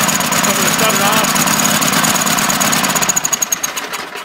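Lawn mower engine converted to run on LPG propane with a Beam T60 mixer, running loud at max throttle with a rough, air-sucking roar that settles into uneven pulsing chugs near the end.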